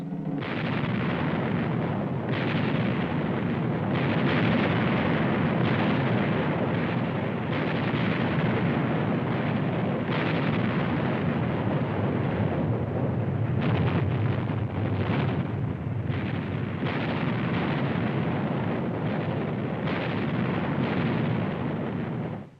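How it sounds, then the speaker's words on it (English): Naval cannon broadsides in a sea battle between the frigates Constellation and the heavier-gunned Vengeance in 1800, heard as a continuous loud, dense roar of rumbling blasts with no pauses across the whole stretch. "For 5 hours, she exchanged broadsides with the heavier-gunned Vengeance."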